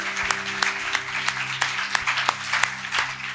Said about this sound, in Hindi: जोरदार तालियां बजा सकते हैं आप